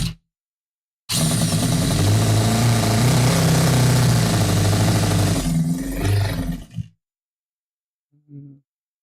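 A V8 engine on a build stand roars as the throttle is opened, a loud sustained rev lasting about six seconds before cutting off abruptly, followed by a brief faint blip.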